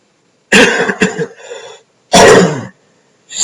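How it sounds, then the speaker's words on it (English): Two sharp, close coughing fits, the second louder and harsher, with the start of a third at the end; no talk around them. "Excuse me, I'm getting over a cough."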